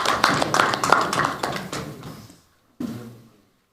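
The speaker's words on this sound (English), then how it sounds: "A round of applause." Applause from an audience at an opposition parties' press briefing in Nigeria, a burst of dense clapping that fades out, followed by a brief second patter of claps.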